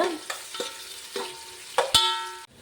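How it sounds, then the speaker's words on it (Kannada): Thinly sliced onions fry in a pan for chicken biryani, heard as a soft sizzle broken by several sharp stirring clatters against the pan, then a sudden cutoff near the end. "ಉದ್ದುದ್ದಕ್ಕೆ ಸಣ್ಣಗೆ ಕಟ್ ಮಾಡಿರುವ ಒಂದೂವರೆ ಈರುಳ್ಳಿ ಹಾಗೆ ಈರುಳ್ಳಿ ಬ್ರೌನ್ ಆಗಬೇಕೀಗ"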